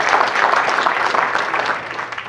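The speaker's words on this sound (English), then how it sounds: "round of applause." An audience of students at a national conservative student conference breaks into a steady, dense round of applause that fills the hall and tapers slightly toward the end.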